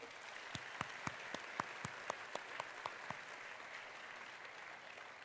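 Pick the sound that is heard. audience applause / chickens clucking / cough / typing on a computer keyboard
audience applause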